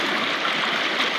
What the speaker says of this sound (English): This is the first set of rapids.